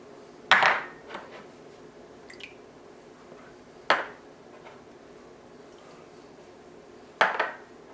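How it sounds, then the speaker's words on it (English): Four eggs cracked one at a time into a large bowl, each a sharp crack and splat against the bowl with quiet pauses between them, clear and close with no talking. "I've got a large bowl and I'm going to add in my 4 eggs"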